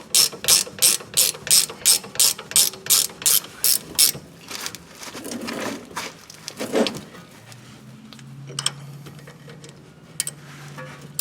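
Rapid ratchet clicks in quick bursts while rear brake caliper bolts on a 2012 Nissan Altima 2.5L are snugged up, close and loud, then slower mechanical handling and faint clunks.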